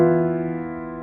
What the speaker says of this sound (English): And then at the end, we have E Phrygian.